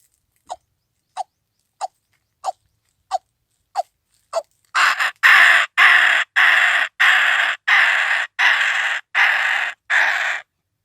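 A man imitates a white-breasted waterhen, starting with a series of short, evenly spaced clicks that give way to a run of loud, harsh, rhythmic croaking calls, close and alone.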